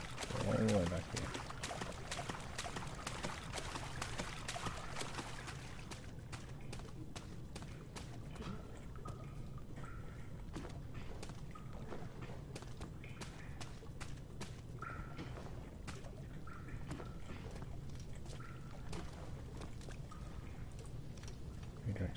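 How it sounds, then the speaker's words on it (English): Sewer water flows steadily in Amnesia: The Dark Descent, a continuous rushing wash with scattered trickling, splashing drips, loud and close. "sewer water"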